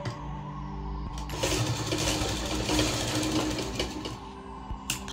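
A sewing machine stitching a fabric potli (batwa) bag runs with a close, steady mechanical whirr and rapid needle clatter through most of the stretch, with slight shifts in pace and a brief stop near the end.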